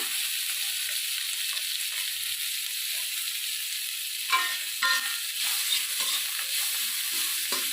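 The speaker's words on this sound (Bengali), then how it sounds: "চিংড়ি মাছগুলো এবারে আমি ভেজে নেব যেই তেলেতে আমি পটল ভেজেছিলাম" Prawns sizzle steadily in oil previously used to fry pointed gourd, a continuous bright crackle with a few louder spatters as they are stirred, close and alone without talk.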